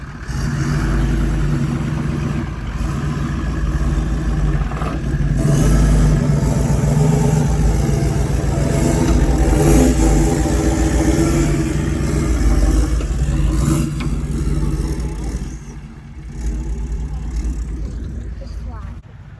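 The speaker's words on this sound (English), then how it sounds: "You can see how much more revs he's going to put into it." An off-road vehicle with its differential unlocked revs hard, a loud sustained mid-pitched engine roar that swells and dips over nearly twenty seconds, with someone talking over it.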